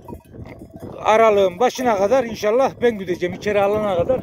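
A flock of sheep on a shepherd's grazing round bleats repeatedly and loudly at close range, with clinking bells mixed in and someone talking over the animals.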